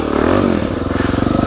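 Dirt bike engine at an off-road park, a close, loud steady drone with a throbbing pulse as the rider moves along the trail.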